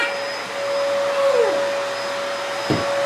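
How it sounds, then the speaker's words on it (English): A vacuum cleaner runs steadily and close, with a constant tonal whine; a brief sliding whimper-like sound and a short thump come over the motor. "This is her vacuuming for the first time."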